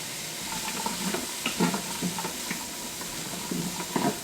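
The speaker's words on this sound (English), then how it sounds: "Mix that around" Onion and carrots being stirred in a soup pot for chicken and dumpling soup: soft scraping and clicking strokes at an uneven rhythm over a steady low sizzle and hiss, close and moderately quiet.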